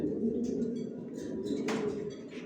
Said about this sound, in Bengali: সব বিগ সাইজের কবুতর পালি আমার লফটে, সব লংয়ের কবুতর